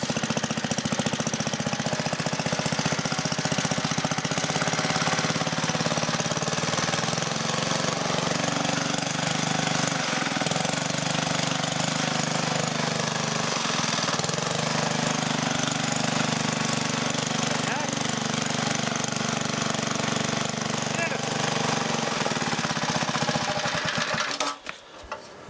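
A restored Briggs lawn edger engine runs steadily at a loud, close, rough idle for a long stretch, then cuts out abruptly at the end.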